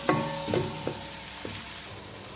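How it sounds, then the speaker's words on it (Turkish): Onions sizzle steadily in butter in a hot pan, with a few sharp scrapes of a utensil stirring them, close and continuous. "Soğanları güzelce soteliyorum"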